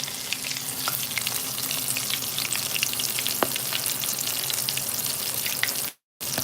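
Chicken pieces fry in hot oil in a pan with a dense, continuous sizzle and scattered pops and crackles, close and steady.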